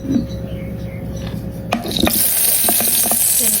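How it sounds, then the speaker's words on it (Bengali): Whole five-spice seeds, bay leaves and dried red chillies drop into hot oil for tempering a curry, setting off a sudden loud sizzle that crackles on steadily after a quieter stretch of stirring. "এই যে ফোড়ঙে দিচ্ছি 5 মশলা, তেজপাতা আর শুকনা মরিচ দিয়ে দিলাম"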